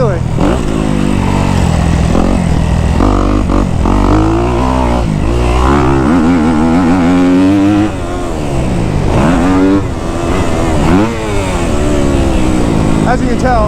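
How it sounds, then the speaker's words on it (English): A Kawasaki KX250F dirt bike engine revs loud and close in third gear, its pitch rising and falling in repeated surges with no gear shifts, over steady wind noise. "As you can tell from the revs of the bike, I'm not really shifting this thing."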